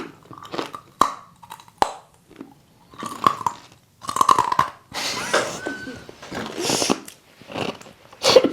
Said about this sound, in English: It's the sort of crunch that hurts your skull.